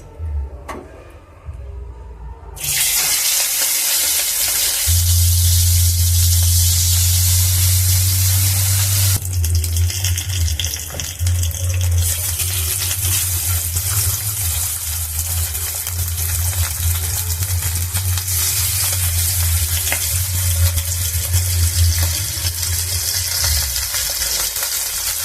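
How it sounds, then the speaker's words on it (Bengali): Falui fish hit hot mustard oil in a pan, bursting into a loud, sustained sizzle and spattering hiss after a quiet start, continuing steadily with a low hum underneath. "তেলটা আমার গরম হয়ে গেছে। এবার আমি মাছগুলো দিয়ে দেবো।"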